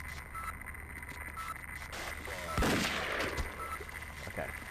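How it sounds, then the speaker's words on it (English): One sharp, close shot from a Magnum revolver cracks out alone in the video game Half-Life VR, then fades over a steady background hum. "that's quite the effective gun against these things. Magnum does a lot of damage"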